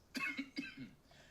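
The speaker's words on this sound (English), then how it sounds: "since when does an AI cough?" An AI-generated voice gives a couple of short, close coughs with a throaty rasp, with a brief pause between them and nothing else heard.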